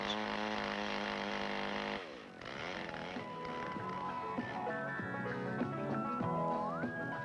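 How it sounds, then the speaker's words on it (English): A chainsaw cuts into a log at full throttle, its engine whining loudly and steadily, shifting pitch as the chain bites, heard in an old 16mm safety film. "The saw may chatter, bounce before biting into the log."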